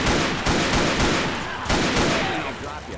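Dense video-game gunfire in rapid automatic bursts, loud and continuous across the whole stretch, with short pauses between volleys and no clear talk on top.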